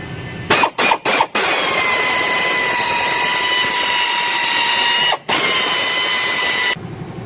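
A hole saw cuts steadily through a car's sheet-metal body while the car is prepped for hydraulics, a loud continuous whining grind with a few brief stops near the start and one more midway.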